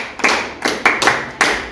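A few bursts of hand clapping ring out close and sharp, with short pauses between them and no voices.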